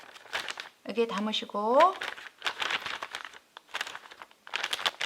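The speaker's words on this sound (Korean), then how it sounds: "진공 비닐입니다." A plastic vacuum bag crinkles and rustles in bursts as wet broccoli is placed inside for microwave blanching, with someone speaking over it throughout.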